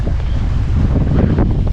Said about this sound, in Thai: อุ้ยดูลมแรง